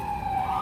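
Emergency vehicle siren wailing on a Friday night street in New York, a loud steady tone sliding slowly in pitch over dense city traffic rumble, with no talk.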